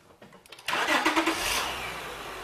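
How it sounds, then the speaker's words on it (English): A car engine cranks briefly and fires up, then settles into a smooth idle, heard up close in a short burst. "you want to start the vehicle."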